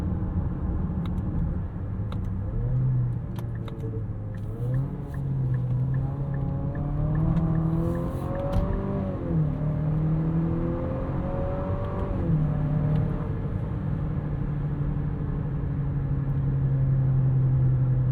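A 2025 Nissan Murano's 2.0 turbo engine with a 9-speed automatic, held in a low gear in sport mode around 3000 RPM, hums steadily from inside the cabin, its drone rising and falling slightly over a continuous rumble.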